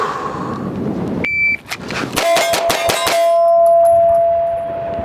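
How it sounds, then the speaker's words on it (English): Rapid pistol shots from a Sig P320 Spectre Comp ring against C-zone steel targets at seven yards, a quick string of sharp clangs with a ringing metallic ding that lingers after the last hit, loud and close. "Shooting some C-zone steel from TA targets right here, and 7 yards out."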